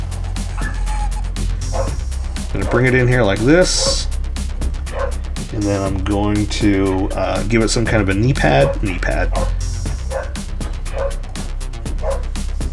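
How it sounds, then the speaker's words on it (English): A neighbor's dog barks and yips outside, repeated sharp barks and whimpers running under someone talking steadily close to the microphone. "You can hear the neighbor's dog outside making a guest appearance."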